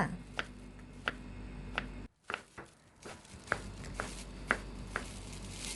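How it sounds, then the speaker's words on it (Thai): A knife chops through firm pumpkin on a board, cutting it into slices in sharp, evenly spaced strikes, about one per second, close and fairly quiet with no talking. "หั่นฟักทองให้เป็นแผ่นๆไว้ค่ะ"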